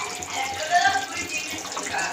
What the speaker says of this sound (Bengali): দেখুন ফুটতে শুরু করেছে দই মাছ।